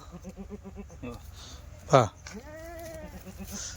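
Kathewadi goats, newly arrived by truck, bleat in quavering calls, one loud and close, then a longer wavering cry, over a murmur of other goats while someone talks.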